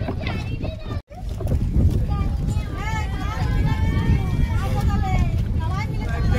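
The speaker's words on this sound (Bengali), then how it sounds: "তো টাম্পারা লেকে আমরা যাচ্ছি হচ্ছে এখন ফ্যামিলি বোট রাইড" A family boat ride on Tampara lake, with a steady engine or water rumble and wind buffeting the microphone throughout, while people, including children, chatter close by.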